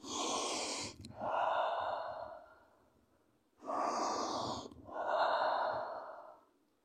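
Two deep, drawn-out breaths during a Pilates stretch, each a long airy inhale or exhale that swells and fades, close to the microphone and with no talking.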